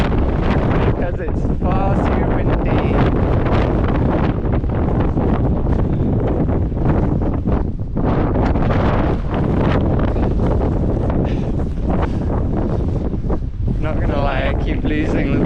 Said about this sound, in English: because it's far too windy.